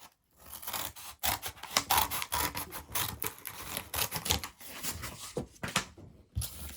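Scissors cutting out cardboard disc shapes, a run of crisp snipping and scraping cuts in irregular bursts, close and fairly quiet.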